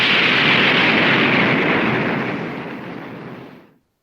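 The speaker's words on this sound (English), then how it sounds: "The Defiant fires on the Avenger and explosions begin." Radio-drama effect of starship weapons fire and explosions in a space battle: a loud, sustained roaring blast that holds strong, then slowly fades over a few seconds before cutting to silence.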